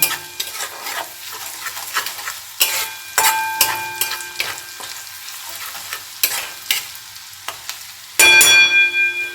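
Spice paste with turmeric and Kashmiri chili sautés in hot oil in a pan while a metal spoon stirs and scrapes it in repeated sharp strokes over a soft sizzle, the scraping loud and close.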